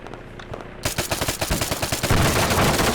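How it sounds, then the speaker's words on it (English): Rapid automatic gunfire rattles in an ARMA 3 firefight, starting abruptly after a quieter moment and building into a loud, dense burst of rapid shots with overlapping weapons. "someone's shooting me"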